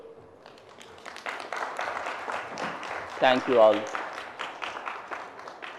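Audience applause at the close of a speech at the Bay of Bengal Conversation 2023: steady, moderate clapping from a crowd, with someone speaking briefly over it.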